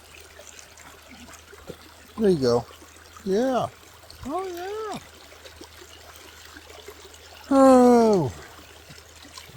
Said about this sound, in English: Hopefully you can hear this babbling brook.